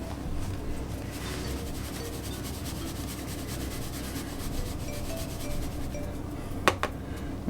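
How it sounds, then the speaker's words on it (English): Dry rub spices for BBQ ribs being combined and worked by hand give a steady, soft rubbing and gritty scraping texture close up, ending in a couple of sharp small clicks. "So we're just combining this. This is going to be our dry rub."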